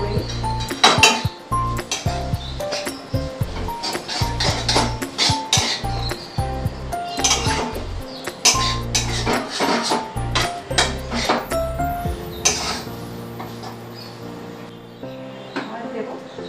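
Metal spoon scraping and clinking in a pan as soy sauce is stirred in during home cooking, a string of irregular sharp taps and knocks over sixteen seconds, close and fairly loud, with someone speaking now and then.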